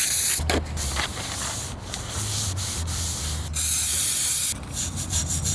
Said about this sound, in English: we're going to spray this piece here with some brake cleaner